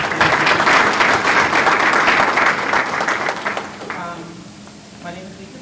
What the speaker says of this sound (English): I want you all to give yourself a round of applause.